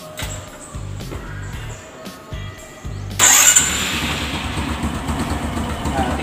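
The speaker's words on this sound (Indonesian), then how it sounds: "kemudian kita cek apakah motor starter berfungsi dengan baik ataupun dengan normal" A Honda Supra X 125 motorcycle engine is cranked by its electric starter in short bursts, then catches at about three seconds and runs at a loud, steady idle; the sound is close and there is no talk.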